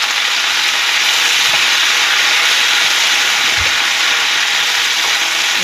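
Onions simmering and cooking down in a pan, giving a loud, steady hiss and sizzle that holds unbroken throughout, with a single brief low thump partway through.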